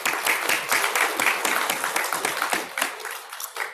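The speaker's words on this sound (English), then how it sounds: "So, round of applause." Applause ripples through the audience at an award ceremony right after a prize is announced, many hands clapping loudly and continuously, with the sound thinning slightly toward the end.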